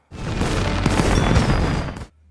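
A big fireworks display: dense, continuous booms and crackling bursts fill about two seconds, loud and close, ending abruptly.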